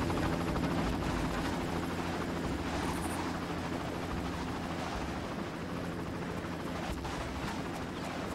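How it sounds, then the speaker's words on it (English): A helicopter flies in the video game Far Cry, with a loud, continuous rotor drone that holds steady throughout and no talk over it. "Can I take the helicopter? I want the helicopter."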